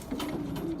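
A pure Jansen racing pigeon gives a soft, steady low coo, close and brief, with the sustained throaty tone holding for under a second.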